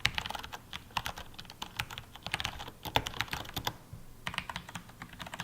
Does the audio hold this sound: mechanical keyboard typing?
yes